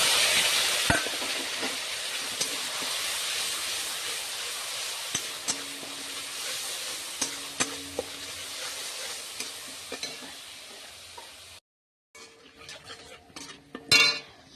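Mustard paste with chili powder, coriander powder and turmeric sizzles steadily in a pan while a spoon stirs and scrapes it, then a brief pause before a few sharp clinks of utensils.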